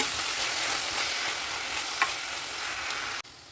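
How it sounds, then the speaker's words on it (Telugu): Coriander and mint paste frying in a pan for coriander mint rice, a steady broadband sizzle running almost unbroken, with one faint clink near the end before it cuts to a quieter hiss. "కొత్తిమీర పుదీనా పేస్ట్ని కూడా వేసేసి పచ్చివాసన పోయే వరకు వేయించు"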